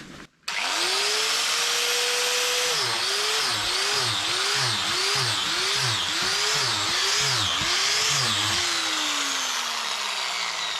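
An angle grinder drilling holes in a log for shiitake inoculation whines loudly and continuously at high revs, its pitch dipping in a rapid series of repeated bites before winding down.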